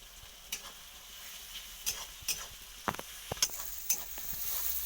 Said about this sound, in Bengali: এটা যেমন ভাজা হয়ে যাচ্ছে এরকম ভাজা করবো ঠিক লাল লাল করে ভাজা হয়ে যাচ্ছে এরকম আদাটা দিয়ে দেবো